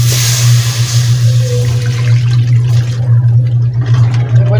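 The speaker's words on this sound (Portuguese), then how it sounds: "Vou acrescentar água." Water poured into a pan of sautéed food in a home kitchen, a loud rushing hiss in the first couple of seconds that settles into softer liquid sounds over a steady low electrical hum, with no talking.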